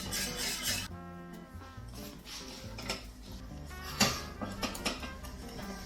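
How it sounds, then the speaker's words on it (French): A metal whisk scrapes and clinks against the bottom of a pan of cooking pastry cream, with uneven rasping strokes and a few sharper taps, close and fairly quiet. "Avec le fouet, quand on gratte le fond, on sent si ça accroche ou pas."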